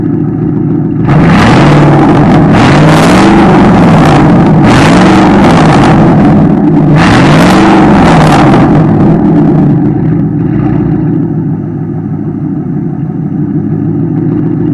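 A 2001 Ford F-150's engine, just jump-started, idles loudly up close and is revved three times in quick succession, each rev swelling and falling back before it settles into a steady idle.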